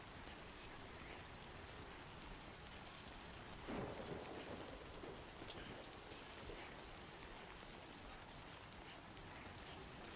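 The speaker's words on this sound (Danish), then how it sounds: "Det var meget, det er fordi det fucking regner så meget." Dense rainfall hisses continuously in the Death Stranding 2 game world, broken by one deep thunder rumble near the middle, steady and enveloping with no one speaking.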